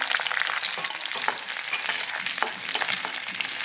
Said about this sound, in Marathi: तेल आपलं बऱ्यापैकी आता तापले आधी मिरच्या टाकूया तेलात